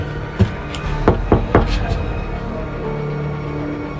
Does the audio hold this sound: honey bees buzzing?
no